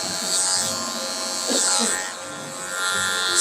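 Electric freehand hair clipper buzzing steadily while cutting hair for a 180-degree demarcation line at a barbershop, with short quiet voice fragments underneath.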